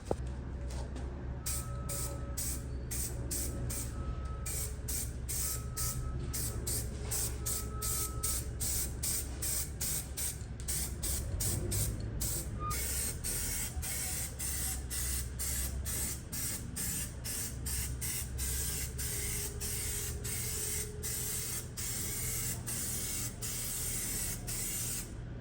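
Primer spraying steadily from an aerosol can onto a Nissan 240sx engine bay during rust repair, a continuous close hiss broken by rapid short bursts and pauses, running without a break throughout.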